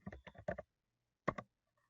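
Keystrokes on a computer keyboard entering a short word into a spreadsheet cell, a quick burst of several close clicks followed by a pause and two more taps, close and fairly quiet with no talking.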